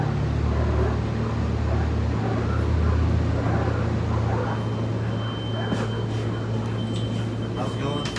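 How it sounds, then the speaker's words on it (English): Diesel railcars of a SMART commuter train run on, a steady low engine drone and rumble filling the cabin from inside, with faint higher rattles near the end. "There goes the DMU cars making the diesel sound."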